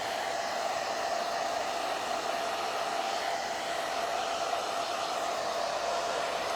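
A hair dryer blows steadily at close range over a freshly painted rustic farmhouse decor piece, making an unbroken, even whooshing roar that lasts throughout with no talking.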